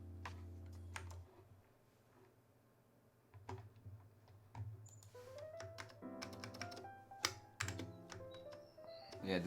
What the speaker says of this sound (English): this keyboard will now type so much nicer